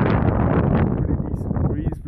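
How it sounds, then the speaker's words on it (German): Strong wind buffets a microphone on a snowy Austrian ski slope, a close, rough rumbling gust that roars steadily and then wavers slightly. "Pretty decent breeze blowing."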